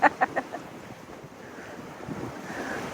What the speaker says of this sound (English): So the wind is supposed to go down a little. It's quite windy.